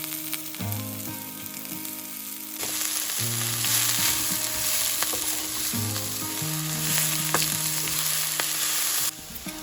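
Ten chopped medicinal leaves for a thoran fry with shallots and chili in a pan, sizzling loudly and evenly up close, with stirring clinks under background music and no voices.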